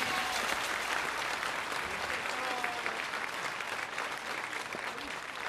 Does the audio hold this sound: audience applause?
yes